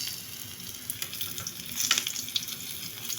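Dried fish (tuyo) frying in hot oil for breakfast, a steady close sizzle with crackling pops and spits rising and falling, no voices.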